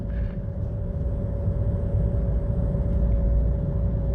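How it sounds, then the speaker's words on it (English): The petrol range-extender engine of a stationary Chevrolet Volt in mountain mode holds a steady, moderate drone with a low rumble and a constant tonal hum, loud and close throughout. "So we are now just sitting there with the engine revving."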